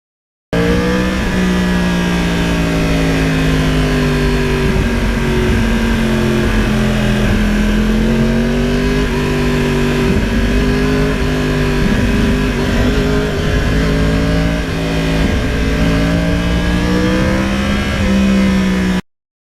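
A Yamaha R1 crossplane sport bike being ridden, its engine droning loud and continuous with rising and falling pitch as it accelerates and shifts through gears, heard up close throughout.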